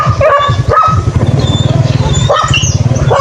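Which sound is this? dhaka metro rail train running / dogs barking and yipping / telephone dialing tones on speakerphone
dogs barking and yipping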